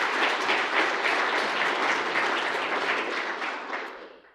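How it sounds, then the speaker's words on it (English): Steady applause from a conference audience at an international construction management event, a dense wash of clapping sustained for several seconds before fading out at the end, with no voices over it. "So a big round of applause for all of them"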